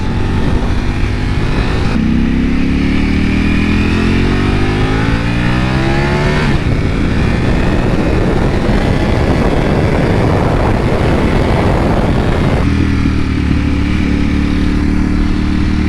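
A Ducati Panigale V4 SP motorcycle engine roars loudly and steadily throughout, with rising revs as it shifts up through the gears and holds a sustained high-speed drone.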